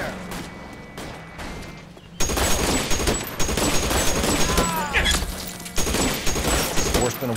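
Gunfire in L.A. Noire erupts as dense rapid bursts of shots and booms that swell after a quieter start, with game characters shouting over the firefight.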